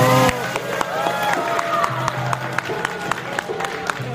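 A crowd in Italy applauds the arrival of evacuated migrants airlifted from Libya, with a continuous patter of clapping and scattered cheers while voices murmur through the gathering.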